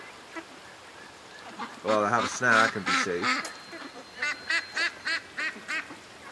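Ducks loaf in a yard near water coolers, giving a loud burst of overlapping quacks followed by a steady run of six or seven evenly spaced quacks, close by, with someone speaking briefly beforehand.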